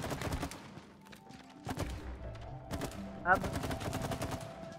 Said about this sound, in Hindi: अब शूटिंग टारगेट मारो